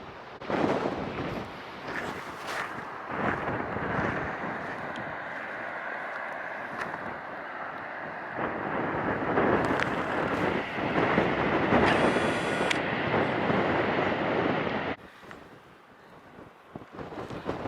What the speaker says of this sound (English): It's quite windy, so we're not going to risk it.